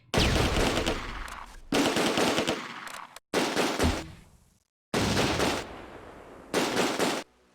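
Bursts of machine-gun fire in the WWII strategy game Close Combat: A Bridge Too Far, five loud rattling volleys separated by short silences, each cutting off abruptly.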